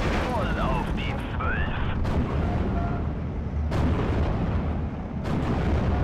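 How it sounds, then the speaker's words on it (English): Machine guns of Panzer Grenadiers open up in Steel Division: Normandy 44, a dense rumble of battlefield gunfire and distant artillery thuds with sharp cracks, heard under someone talking. "Panzer Grenadiers there opening up with their machine guns"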